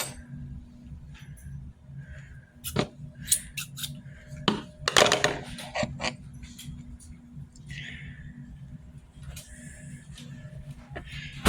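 Scissors snipping a yarn end while crocheting a sashay scarf, a few crisp metallic snips and clicks close by, with quiet talk in between.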